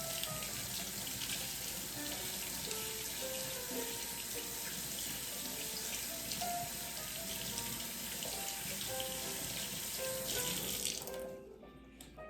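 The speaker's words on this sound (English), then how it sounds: "every once in a while, expect to have to rinse off your hands, just as I'm about to do here" Tap water runs steadily into a kitchen sink while hands are rinsed during calamari frying prep, a constant close wash of water that cuts off abruptly near the end.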